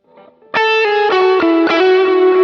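A Telecaster played on the neck tone with the bridge pickup volume rolled back, through effects: a bright, slightly distorted chorused chord strummed and re-struck rhythmically, loud and close with no talk.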